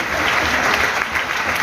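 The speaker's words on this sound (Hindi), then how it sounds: "आप लोग अपने लिए एक बार सम्मान में तालियां बजाएं।" Dense, steady applause from an audience at a Jain religious discourse during a festival sermon, continuous clapping with no pause.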